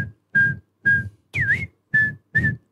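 A human voice imitating the call of a red-billed toucan from the Amazon: six evenly spaced, clear whistled-yelping notes, one with a rising-falling swoop, each with breathy body, close and alone.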